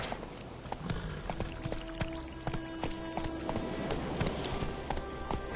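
The horse Roach gallops in a PS4 video game, with a close, rhythmic clip-clop of hooves over a steady backdrop of game sound and no voices.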